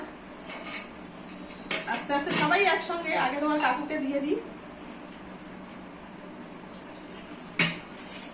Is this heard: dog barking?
no